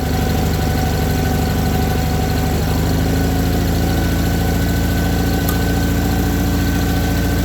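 An Ingersoll 4120 tractor idles steadily with a hydraulic chipper/shredder running, a loud, constant mechanical drone with a faint rhythmic knock throughout.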